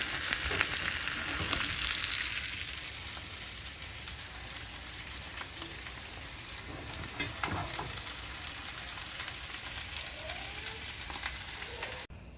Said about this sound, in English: I used Kerrygold butter to fry the salmon steak.